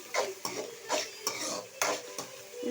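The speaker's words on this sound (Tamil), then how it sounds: "இது நல்லா ஃப்ரை ஆகும்." Onions frying in a pan while being stirred: rhythmic scraping strokes of a utensil against the pan, about six close sweeps over a soft sizzle, with no one talking.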